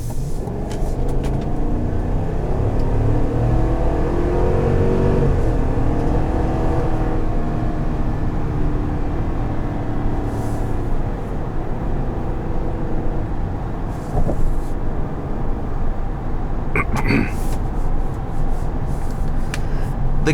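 The 6.2-litre V8 of a 2021 GMC Yukon Denali accelerates hard, heard from inside as a loud, rising engine roar and drone that holds for many seconds, with faint clicks and knocks near the end.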